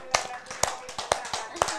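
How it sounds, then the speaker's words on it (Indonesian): A handful of people at a law training seminar in Denpasar clap in a sparse, uneven burst, about seven distinct sharp claps over a couple of seconds, fairly close and modest in volume. "Ayo tepuk tangan dulu untuk undang-undang kepailitan."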